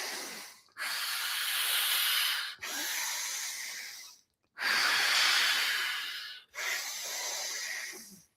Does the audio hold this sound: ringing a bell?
no